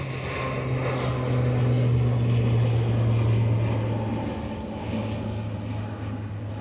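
ATR turboprop airliner at Dublin Airport, a steady propeller drone with strong low tonal hum, swelling louder midway then easing slightly, continuous and fairly near with no talk over it.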